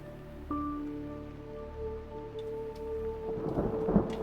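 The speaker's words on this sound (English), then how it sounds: "And the storm is here already." A thunderstorm in the video game Mind Over Magic brings rain and rumbling thunder that swells toward the end, over a soft sustained musical drone.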